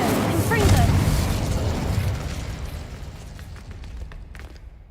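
A Confringo explosive spell from Hogwarts Legacy bursts loudly at the start. Its booming, crackling blast slowly decays over several seconds into quieter rumble and a few faint clicks.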